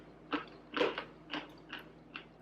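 Five crisp bites and crunches of dehydrated egg white wrap chips, close and fairly loud, spaced roughly half a second apart with chewing between them and no talking.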